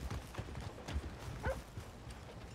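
Horse hooves clopping in a steady rhythm with a rolling wagon in the video game Red Dead Redemption 2, fairly quiet and continuous with faint mechanical rattling, no talking.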